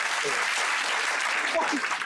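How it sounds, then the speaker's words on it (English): A television studio audience on a 1979 talk show claps steadily in a brief, even burst, with faint voices briefly audible underneath. "Why did you clap that?"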